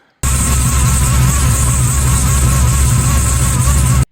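A race car engine fitted with new headers fires up and runs loud and close, a harsh steady drone with a buzzing edge that cuts off abruptly after about four seconds.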